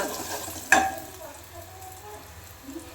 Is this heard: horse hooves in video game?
no